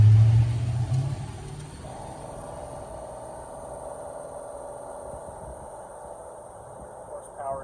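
A 1963 Plymouth Sport Fury with a 426 Max Wedge engine cruising at about 40 mph, a steady mid-range engine drone with road rumble throughout and a brief louder burst at the start.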